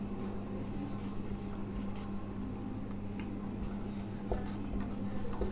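Steady scratchy strokes of writing on a board during a chemistry lecture, soft and continuous over a low room hum, with no talk over them.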